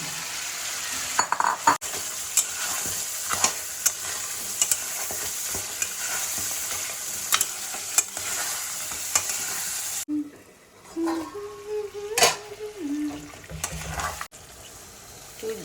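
Crabs sizzle and fry in spiced oil, with constant hissing and frequent metal clinks and scrapes as a spoon stirs the pan. Partway through the frying drops back and brief clattering follows.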